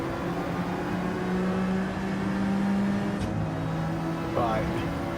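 Citroen race car in Gran Turismo 7 accelerating at a race start in Australia, a steady droning engine whine that rises in pitch, with a brief shift and another rising tone near the end.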